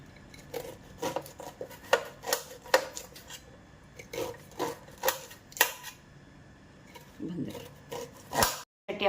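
A knife cuts corn kernels for pakoda in a kitchen, producing a series of close, sharp chopping and scraping strokes in uneven bursts, with a few louder hits near the end.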